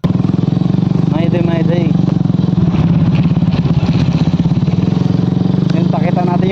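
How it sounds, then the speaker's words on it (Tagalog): A small-wheeled motorcycle carrying a passenger rides over a rough, potholed road, its engine putting out a loud, continuous buzzing drone with rattling clatter throughout, while someone talks over it. "sasabak na naman natin yung aking motor na maliit ng gulong"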